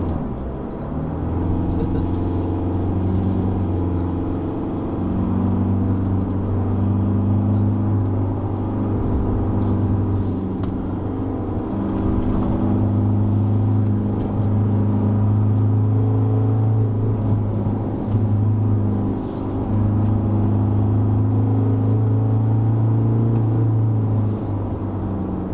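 A 2021 Isuzu D-Max X-Terrain pickup driving uphill on the Genting mountain road in third gear, its diesel engine giving a steady, droning rumble with a strong low hum and slight changes in load.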